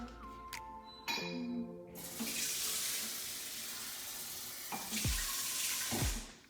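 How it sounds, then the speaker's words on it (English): Tap water runs steadily into a bowl for akara batter, a continuous rushing stream framed by light clinks of glassware at the start and end, with no voices. "I'm going to add a little water to it."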